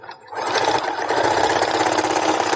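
A sewing machine backstitches a seam on a reversible overnight bag, its motor starting after a brief quiet moment and then running in a steady, loud, close-up whir with a fast rhythmic needle chatter.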